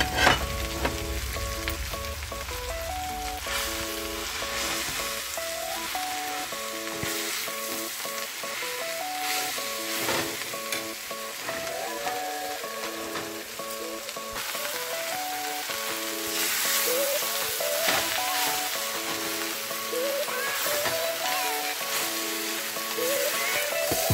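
Masala sizzles steadily in hot oil for coriander and tomato chutney, with coriander leaves going in and occasional stirring scrapes over a constant frying hiss; there is no talk.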